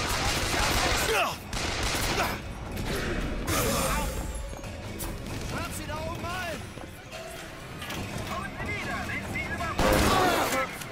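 Rapid bursts of gunfire, including Gatling-gun fire, crackle loudly in the first-person shooter BioShock Infinite, with repeated volleys and crashes over about eleven seconds while a player talks throughout.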